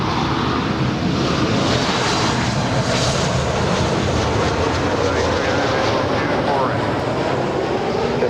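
Jet aircraft at LAX rumble with a broad, loud, continuous engine roar over about eight seconds, with air traffic control radio chatter running beneath.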